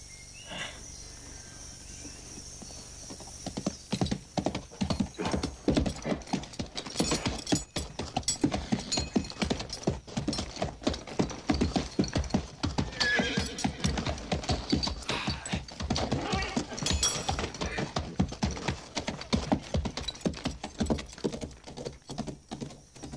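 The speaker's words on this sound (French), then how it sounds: "C'est beau, un cheval." Horse hooves clip-clop in a steady rapid rhythm, close and fairly loud, with clattering mechanical creaks mixed in and a brief whinny, starting after a quieter opening.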